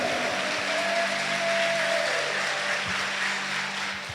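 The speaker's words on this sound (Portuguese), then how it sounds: "Será que você pode dar um aplauso ao Senhor?" Audience applause at a church conference in response to a call to applaud the Lord, a broad sustained wash of clapping from a large crowd at steady loudness, with a faint tonal hum drifting underneath.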